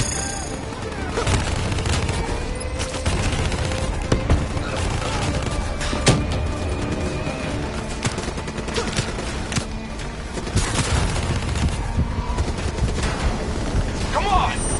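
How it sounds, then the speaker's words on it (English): Dense combat in Call of Duty Black Ops 3's campaign, with a swarm launcher firing amid sustained gunfire and explosions, a continuous loud barrage with sharp bursts throughout. "Hit him with the swarm launcher."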